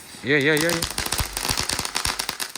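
A firecracker bursts into a rapid string of sharp cracks and pops after a brief voice, crackling on irregularly for about two seconds.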